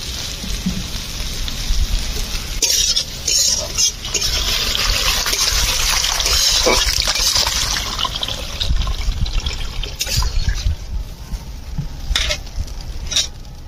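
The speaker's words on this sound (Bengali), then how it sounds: "এবার আমি উপর থেকে জল দিয়ে দেবো।" Water is poured over boiled potatoes in a cooking pot, a continuous splashing, bubbling wash close by that lasts throughout with scattered clinks and stirring sounds.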